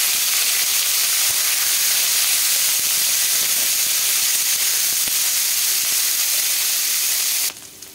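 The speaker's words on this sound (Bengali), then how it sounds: "প্রথমে আমি কাঁকরোল আর পটল ভাজবো" Teasel gourd and pointed gourd frying in hot oil, seasoned with bay leaf, dried chillies, five-spice and asafoetida, make a loud, dense, continuous hiss. It cuts off abruptly near the end.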